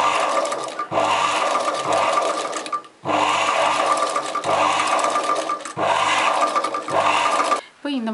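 Home sewing machine stitching an embroidered chudidar neck design with mirror work, running in long steady bursts of rapid mechanical whirring with short pauses between runs, loud and close.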